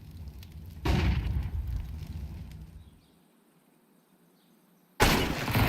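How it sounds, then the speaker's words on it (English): A Molotov cocktail in Counter-Strike 2 during a pro esports match bursts into flame with a loud whoosh, roars for about two seconds and dies away, then a second loud burst of fire erupts near the end. "Molotov towards Woxic's position to force back the scout, and it will."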